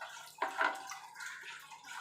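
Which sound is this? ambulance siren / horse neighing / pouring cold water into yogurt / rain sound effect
pouring cold water into yogurt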